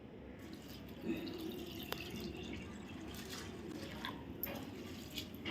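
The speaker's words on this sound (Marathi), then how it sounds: "आता आपण हे पोहे धुवून घेऊया" Water sloshes and trickles steadily as flattened rice (poha) is rinsed in a bowl, with a few soft drips and splashes throughout.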